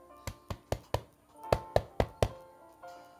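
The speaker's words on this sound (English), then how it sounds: "there was a knock at the door" A hotel room door in the evening, knocked on twice: a group of four sharp raps, a short pause, then four more, close and clear.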